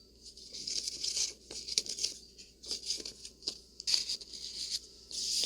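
Scrapbook paper pages in a handmade junk journal are handled and turned, giving crisp rustles, crinkles and soft flapping in irregular bursts, close and fairly loud with no talking.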